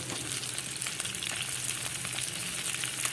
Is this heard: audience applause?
no